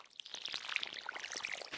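Watering can sprinkling water over farm ground in Stardew Valley, a light, steady patter of small splashes and droplets lasting a couple of seconds, fairly quiet and close with no talking.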